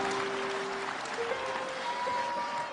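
A church congregation applauds at a modest level, a steady wash of clapping in a large room under sustained music tones.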